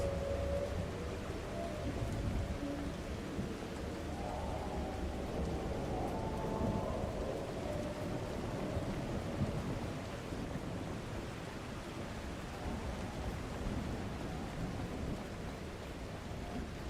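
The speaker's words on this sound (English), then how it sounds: "Dark, stormy night." A dark, stormy night in the video game The Last Caretaker brings steady rain hiss and a low, rolling rumble of thunder throughout, fairly faint, with no talking.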